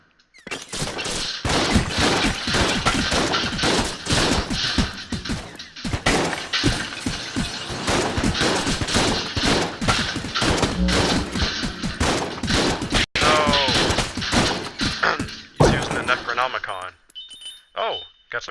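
Rapid gunfire from the Membrane gun in the video game Enter the Gungeon crackles in dense bursts with clinking, shattering hits, running almost continuously under a player's talk.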